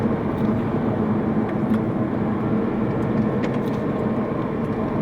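A Jaguar F-Type S Coupe driving along at speed, its engine a steady, loud, droning rumble with road and wind noise throughout, no clear surge of acceleration standing out.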